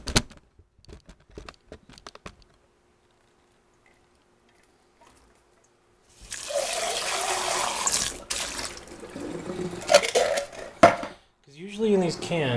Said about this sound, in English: So you're going to rinse your lentils.